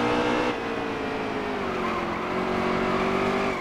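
Race car engines drone loudly and continuously in NASCAR Heat 3 during a night career race at Bristol, with faint tire squeal mixed into the steady roar.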